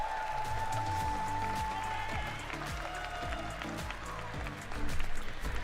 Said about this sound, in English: Crowd, can we hear it one more time for Warren?